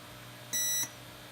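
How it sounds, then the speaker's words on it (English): A single short electronic beep, clear and steady for about a third of a second, against a quiet background. "one beep is good, 3 beeps is bad"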